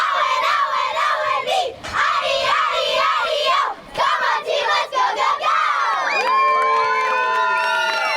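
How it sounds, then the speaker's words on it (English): A girls' soccer team from a youth championship match at Francis Ryan Park in Escondido shouts a loud group cheer in a circle, sustained excited voices ending in high drawn-out whoops and squeals. "now girls, you're gonna get in a circle and you're gonna do your cheer on 3"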